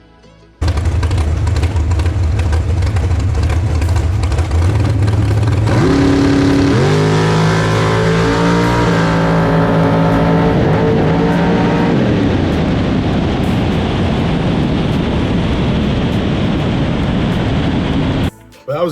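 Drag race car making a bracket run at an IHRA event, a loud engine roaring from launch, rising in pitch through the gears, then fading into a long rumbling coast-down, with a voice talking over it.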